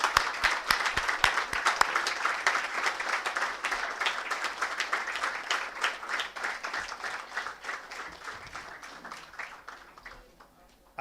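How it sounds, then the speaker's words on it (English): Sustained audience applause at a moot court prize distribution ceremony, many hands clapping densely and steadily, fairly loud, tapering off toward the end with no talk over it. "A big hand of applause."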